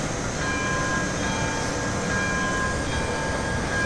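A steam train in the Railroads Online game starts to move, with a steady, continuous rolling rumble and hiss at even loudness, with no voices.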